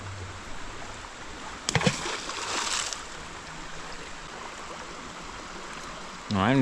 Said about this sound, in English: I've never seen so much water in the stream before, especially during the summertime